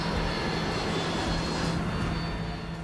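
An airplane diving low toward a street during a crash sequence, its engine a loud, continuous broadband roar sustained throughout, close and dense with no talk.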